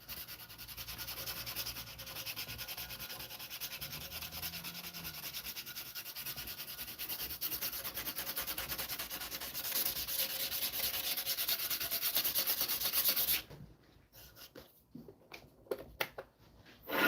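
Wood spinning on a lathe is sanded along the grain, producing a steady, close abrasive rubbing hiss for about thirteen seconds before it stops and a few faint knocks follow.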